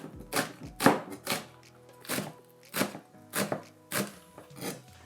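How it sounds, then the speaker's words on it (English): Onions being chopped on a board as prep for jianbing, a Chinese street-food breakfast crepe, with about ten sharp, evenly spaced knife strikes sounding close and clear, no talking. "What we're gonna do right now is chop up these onions."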